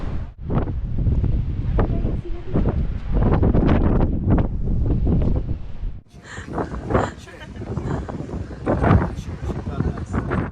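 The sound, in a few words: wind blowing on the seafront in Alexandria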